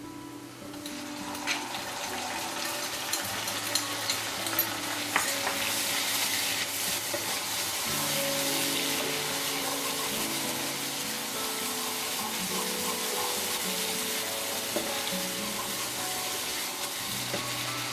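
Paste of ginger, garlic, green chili and cumin frying in hot oil, sizzling steadily and close by, with occasional stirring clinks and no speech.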